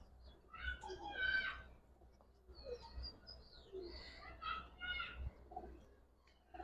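Giribaz pigeons coo softly and intermittently at a busy pigeon market in Old Dhaka, with faint repeated calls mixed among people talking in the background.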